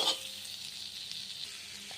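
Butter sizzles steadily in a wok on a stove, a continuous hiss with a brief sharper crackle at the start and no voices.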